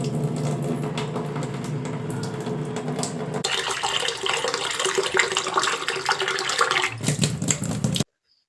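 Water runs steadily as rice and lentils are washed, a close, even splashing stream that shifts in tone partway through before cutting off abruptly near the end.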